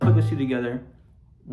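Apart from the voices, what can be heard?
None of the usual background noises is heard.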